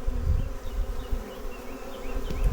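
Honeybees buzz around an opened, smoked hive, a dense moderate hum of many insects with individual wingbeats flickering through, steady and fairly close with no talk.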